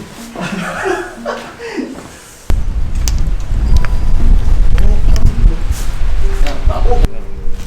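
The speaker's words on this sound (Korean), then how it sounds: "바람 소리 엄청나네" Loud, roaring wind buffeting the microphone at an abandoned resort after a brief stretch of chatter and chuckling, with voices speaking intermittently over the gusts.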